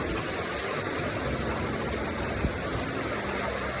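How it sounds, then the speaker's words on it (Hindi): Heavy monsoon rain falls nonstop in Goa, a dense, steady hiss of downpour close around the listener with one faint brief knock partway through. "इतनी बारिश"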